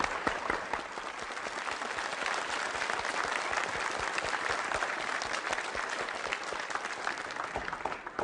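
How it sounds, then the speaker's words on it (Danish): A studio audience applauds steadily to welcome Danish Oscar-winning animator Børge Ring, the dense clapping sustained and fairly loud throughout with no pauses. "Skal vi ikke give ham et klap med det samme?"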